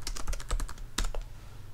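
Quick, crisp keystrokes on a computer keyboard as a password is entered on a Mac, a loud irregular burst of taps alone with no talking.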